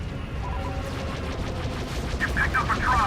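Missiles firing in a Star Wars Battlefront 2 space battle, a steady stream of crackling bursts and blasts with voices talking over the combat.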